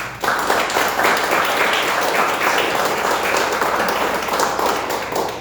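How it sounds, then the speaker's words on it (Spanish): Sustained applause from a crowd, many hands clapping steadily throughout at a loud, even level. "merecido el aplauso"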